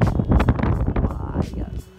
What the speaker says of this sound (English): Oh my god, it is so windy.